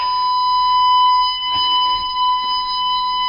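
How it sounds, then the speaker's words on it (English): The console alarm of an R-161 radio station sounds because the exciter is not locked: a loud, steady multi-tone electronic alarm that holds unbroken throughout, with a few faint clicks and bumps beneath it. "the first thing you'll hear is the alarm going on the console behind me, which tells me that the exciter is not locked"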